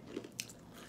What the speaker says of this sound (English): The crunch is good.